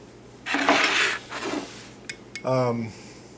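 Metal spoon scraping and clinking against a glass jar while scooping out homemade sauerkraut with celery, a few close scrapes and taps followed by a short ringing clink.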